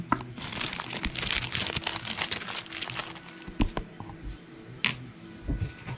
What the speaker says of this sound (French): Je vais même pouvoir raccourcir ma pellicule de plastique.